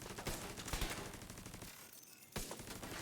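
Rapid automatic gunfire from The Division 2 rattles along steadily, with a brief gap before the shooting picks back up, fairly quiet overall.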